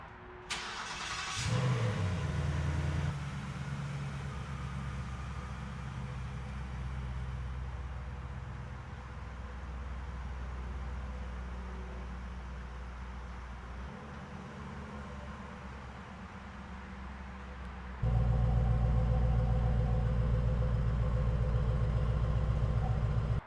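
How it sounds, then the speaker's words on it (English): A Mustang engine starts with a sharp crank, then idles and rolls forward at low speed into a garage, ending in a louder steady idle close by. "So let's bring the car inside the garage"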